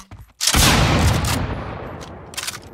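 A double-barrel shotgun fires in the video game Project Stray: one sharp, loud blast that rolls into a long echoing tail, with light mechanical clicks before and after.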